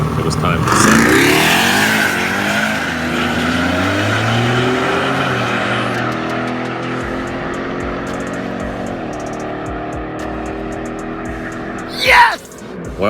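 A powerful Jeep Grand Cherokee Trackhawk engine, around 1300 wheel horsepower, roars hard and climbs through the gears at full throttle on a drag racing pass, then fades as it pulls away, with a brief burst of noise near the end.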